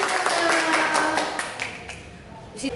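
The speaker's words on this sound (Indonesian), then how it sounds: "Tepuk tangan dulu untuk adik-adik." Young children in a Sunday school class clap their hands, a brisk patter of claps from a small group that thins and fades toward the end, close by.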